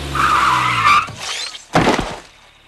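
A car skids hard as the brake is slammed, a loud tire squeal lasting about a second, followed by a brief burst of crashing noise and then quiet; from an animated cartoon.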